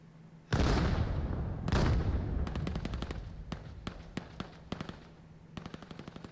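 A barrage of grenades explodes in the VR shooter VAIL, two loud booming blasts followed by a rapid run of sharp gunfire-like cracks, loud and close with no talk.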